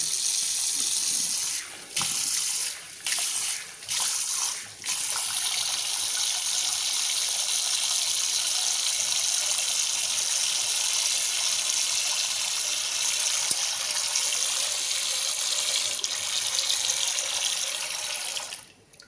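Water gushes from a tap in a steady, loud rush, broken by a few brief stops and restarts early on before flowing continuously to the end.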